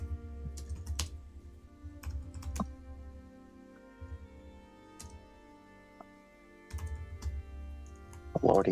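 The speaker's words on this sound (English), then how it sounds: "he's typing something" Computer keyboard typing in bursts of quick, close clicks, pausing between runs, with faint background sound during a tabletop roleplaying session.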